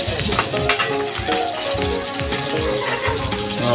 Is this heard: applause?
no